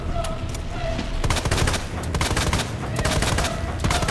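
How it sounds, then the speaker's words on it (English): Rapid gunfire aimed at a boss in Resident Evil 2 crackles in dense, loud bursts over rumbling game noise, the shots coming in a near-continuous volley. "I'm gonna shoot the heart, not the face"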